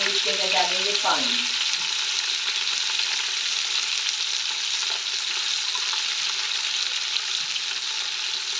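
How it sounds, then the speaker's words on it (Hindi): Water poured into hot desi ghee with meat for salted mutton gives a loud, steady, close hiss of frying, with a brief splash and bubbling at the start. "अब हम इसके अंदर डालेंगे पानी।"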